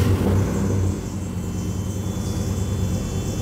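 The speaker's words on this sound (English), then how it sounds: "Look at that compressor working away." An air conditioning compressor runs on an LS-swapped Mercedes turbo diesel car, heard as a steady, loud mechanical drone over a continuous engine rumble with no pauses.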